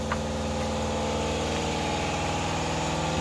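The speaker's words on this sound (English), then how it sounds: "Air compressor likes to kick on at the perfect time sometimes." A shop air compressor runs with a steady, loud motor hum and rhythmic pumping throb, close by, continuous throughout with no talk.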